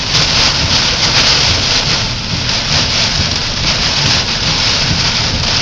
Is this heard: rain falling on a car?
yes